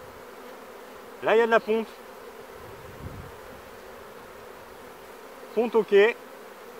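Honeybees hum steadily at an open hive during a beekeeper's inspection of brood frames before a super is added, with a soft continuous buzz under two short bursts of close speech.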